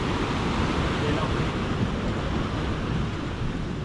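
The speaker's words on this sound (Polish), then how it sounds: "O, a jaka fala się zaczyna." Ocean waves breaking on a wide beach by a pier in Los Angeles, a continuous loud wash of surf with rushing wind noise and no clear speech.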